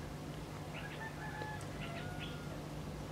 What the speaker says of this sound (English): There's an actual chicken next door to me.